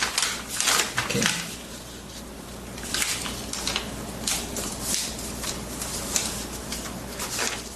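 Paper being folded into an origami butterfly gives soft, close crinkles and creases in short bursts, with a brief spoken word near the start.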